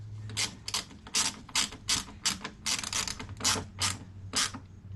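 A ratchet clicks in quick, repeated bursts as it snugs the bolts on a Harley batwing fairing. Roughly ten close, crisp strokes come in a steady rhythm, with no talking.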